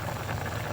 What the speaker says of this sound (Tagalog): Ayan mga idol, kumulo na.